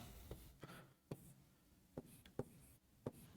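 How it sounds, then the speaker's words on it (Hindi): Chalk or marker tapping and scratching on a classroom board during a Hindi grammar lesson, with a series of sharp, separate strokes spaced across a quiet room and faint low murmuring between them. "लिख देता हूं मैं"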